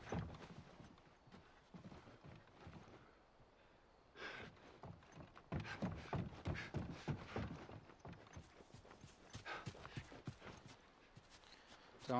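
Horse hooves clip-clopping in the video game The Last of Us, a steady run of hoofbeats that rises and thickens midway, fairly close, with faint background game sounds.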